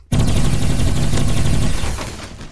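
Automatic gunfire in the Roblox game Energy Assault: a loud, rapid burst of shots starts abruptly and rattles on steadily for about two seconds before trailing off, with no voices.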